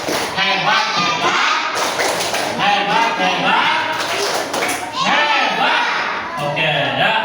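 Fourth-grade classroom children performing the 'tepuk hebat' clapping chant, loud rhythmic group claps and thumps mixed with children's chanting voices, continuous and close throughout.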